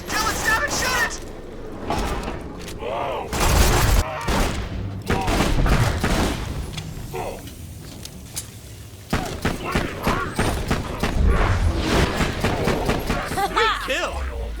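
Gunfire bursts out in a Borderlands 2 fight against a Vine Freak: dense, rapid volleys of shots and impacts crowd the scene, with voices talking over the action throughout.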